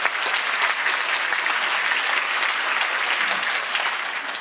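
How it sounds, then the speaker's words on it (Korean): A live audience claps steadily to welcome two guests at a mock job interview session during a job fair at Jeonbuk National University, the applause dense and continuous throughout. "여러분 두 분 박수로 환영해 주시기 바랍니다"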